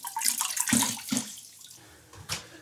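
A grout sponge wrung out over a wash bucket during epoxy grout cleanup, with close water splashing and dripping in several surges that fade, then a last small splash, heard alone.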